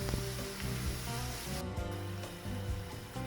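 Sweet wheat flour vettu palakaram pieces frying in hot oil, giving a steady close sizzle with bubbling crackle throughout, with music playing along and no talking.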